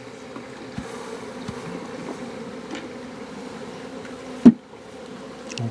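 A full box of honeybees in a bee yard hums in a low, steady buzz, moderately quiet, with a few light knocks and one brief louder thump.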